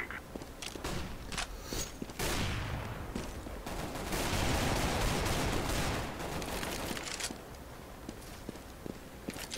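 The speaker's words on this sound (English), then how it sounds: "Deploying flashbang." Gunfire and a flashbang in a tactical shooter video game, with dense overlapping shots, bursts and blasts, loud and continuous, with footstep-like clatter in between.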